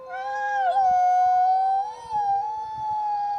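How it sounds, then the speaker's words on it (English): Wolves at a conservation center howl in long, sustained, wavering calls that rise and bend in pitch, with overlapping voices. The sound is clear and moderately close, with no talking. "you can hear them howl"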